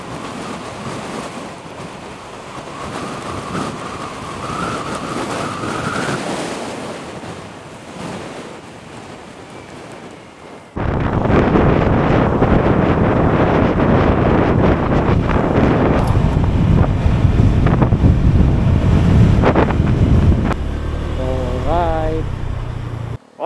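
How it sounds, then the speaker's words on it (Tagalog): Strong wind roars across the microphone on a coastal drive toward Dingalan, Aurora, a steady heavy buffeting that grows louder and rougher partway through, with a faint voice in the background. "Lakas ang hangin."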